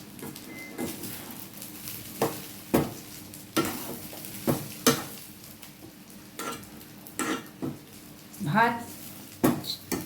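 Rice being stir-fried in a pot for Bangladeshi chicken tehari, with repeated scraping stirs and clinks of a spoon against metal over a steady low sizzle, close and moderately loud, with no talk.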